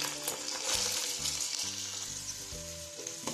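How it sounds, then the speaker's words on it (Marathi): Paneer cubes shallow frying in a spoonful of medium-hot oil in a pan for dhaba-style palak paneer, giving a close, steady sizzle throughout with clinks of the pieces being turned. "पनीर हलकेसे शॅलो फ्राय करून घेऊ।"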